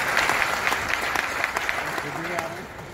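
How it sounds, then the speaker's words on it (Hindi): Applause from an audience at a pigeon-flying association gathering in Moradabad, a steady wash of many hands with a few louder claps, with voices talking over it. "ताली बजाकर हमारे आरिफ भाई की हौसला अफजाई करें"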